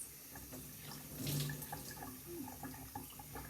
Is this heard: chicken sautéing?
no